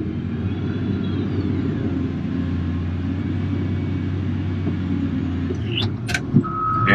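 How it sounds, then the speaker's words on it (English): Cat wheel loader working at a stockpile, a steady low diesel engine rumble inside the cab, with a few clicks and clatters near the end as the bucket load is taken. "So I'm going to go ahead and get a bucket load of material."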